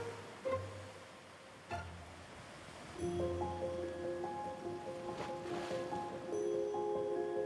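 Ocean surf rolls in a steady wash along a Minnesota shore, with a low broadband roar that swells partway through and a faint tonal hum underneath; no one speaks.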